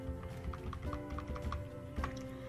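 Typing on a computer keyboard while entering a figure into an Excel spreadsheet, heard as a short run of light, fairly regular key taps over a steady background hum, close and moderately quiet.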